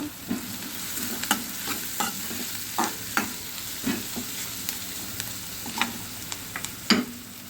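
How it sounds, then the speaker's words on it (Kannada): Masala pulao ingredients stir-fried in a pan, a low steady sizzle broken by irregular spoon scrapes and taps, close and moderately loud without talking. "ಇದನ್ನು ಸ್ವಲ್ಪ ಫ್ರೈ ಮಾಡೋಣ."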